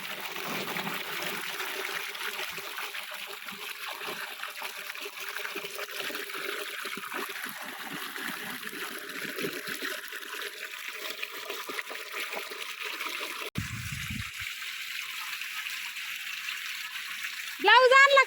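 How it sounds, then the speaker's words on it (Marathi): A pump motor sends water gushing out in a steady, moderately loud stream that runs for the whole stretch, with a brief knock near the end and a voice cutting in at the close. "आमची मोटर चालू झाली बघायची का तुम्हाला किती पाणी येतं?"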